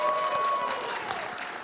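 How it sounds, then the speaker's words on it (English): An audience at a PAX East 2023 drag panel claps and cheers steadily, a dense wash of applause filling the room. "everybody cheer, applause."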